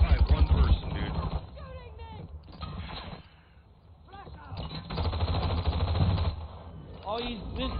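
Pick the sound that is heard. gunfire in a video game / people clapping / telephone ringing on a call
gunfire in a video game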